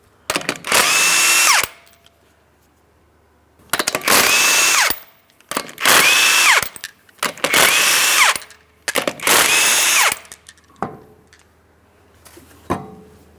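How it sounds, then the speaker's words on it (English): Power tool spinning off the 19mm lug nuts of a front wheel on a 2008-2016 Chrysler Town & Country, five loud whirring bursts in a steady rhythm, each about a second long and separated by short pauses, followed by a few faint clicks. "remove all 5 of your 19mm lug nuts so we can get the wheel off of here"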